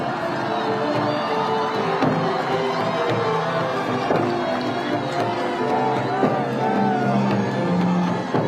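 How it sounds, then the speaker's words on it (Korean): Large outdoor crowd at a presidential election campaign rally in front of Seoul City Hall, cheering, whooping and applauding in a steady, loud roar that runs throughout with scattered shouts. "다시 한번 큰 박수 부탁을 드리겠습니다"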